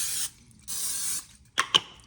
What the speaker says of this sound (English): Some of this olive oil spray.